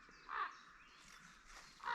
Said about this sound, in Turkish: Şimdi ilginç bir olay var kargalar beni 50 metredir tepemde.